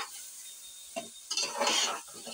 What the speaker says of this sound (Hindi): इसको मैं अच्छे तरीके से इसको जो है हम फ्राई कर लेंगे, भून लेंगे अच्छे तरीके से